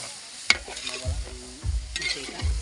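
Pork skin frying in a pan for a Bicolano dish, with sharp crackles and pops over a sizzle and scraping stirring strokes repeating every second or so, close and fairly loud.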